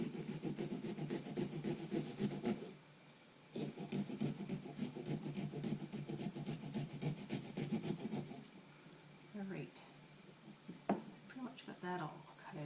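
A hand-powered saw cuts through a pumpkin in steady rasping back-and-forth strokes, a pause near three seconds, then more sawing; someone talks over and after the cutting, up close.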